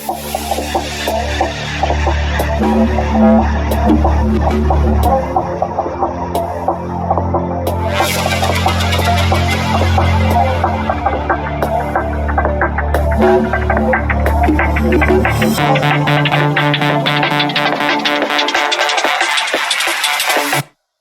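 A loud dark liquid drum and bass drop made in FL Studio plays with heavy throbbing bass and fast, dense beats, shifting partway through before cutting off abruptly.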